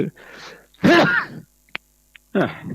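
A single sharp sneeze bursts out between quiet stretches of a Thai Buddhist monk's dharma talk, with a few faint clicks and another brief vocal burst nearby.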